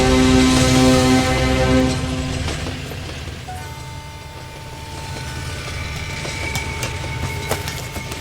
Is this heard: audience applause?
no